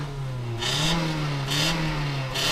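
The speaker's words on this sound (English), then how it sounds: "I'll let you hear how the original one sounds" An Audi 80 engine running through its original stock exhaust, revving repeatedly in rhythmic pulses with a clear droning tone rising and falling, close and loud with no voices.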